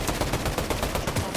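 Rapid gunfire in the Fortnite video game during an FNCS Major grand finals match, a dense burst of repeated cracking shots in quick succession, loud and close, with no talking.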